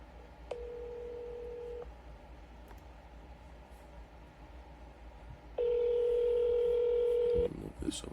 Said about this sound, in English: So let's start dialing, my people. First call of the day.